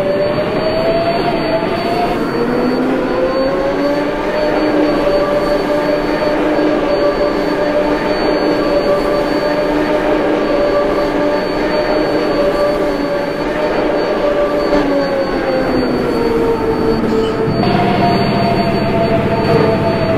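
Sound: R188 7 subway train at Queensboro Plaza

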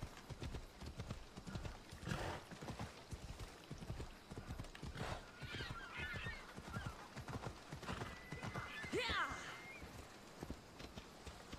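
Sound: horse galloping in a video game

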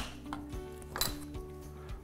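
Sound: metal strainer being handled in kitchen

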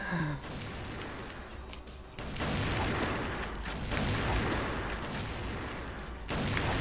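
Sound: gunshot from CrossFire video game sniper

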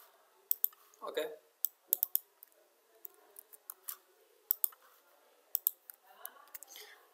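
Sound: computer mouse clicking

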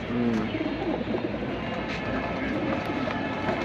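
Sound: pigeons cooing

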